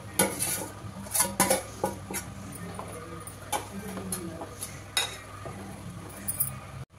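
A spoon scrapes and clinks against a pan while fried ginger paste and spices are stirred in oil, in repeated irregular strokes at close range, with no talking.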